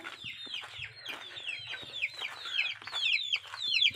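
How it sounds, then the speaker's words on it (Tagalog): Chickens in a coop cluck and squawk continuously at close range, overlapping calls rising in intensity over four seconds. "Paon na ang manok nandito sa kulungan."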